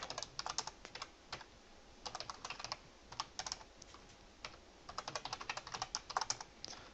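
Fingers tap out bursts of keystrokes on a computer keyboard, clicking in uneven clusters with short pauses between them, close and soft.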